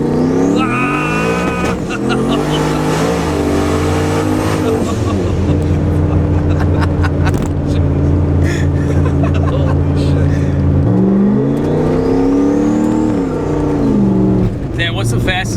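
A 1000 horsepower turbo Trans Am WS6 revs and launches hard from a standstill, loud engine climbing through gears with tire noise, while people inside the car talk and exclaim over it.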